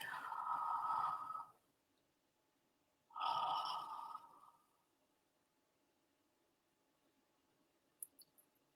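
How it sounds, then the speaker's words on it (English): People in a group exercise yawn twice, each a breathy rising-and-falling exhalation lasting about a second and a half, close and moderate, followed by quiet and a faint click. "So let's just yawn, please. You're going to take 3 to 4 yawns."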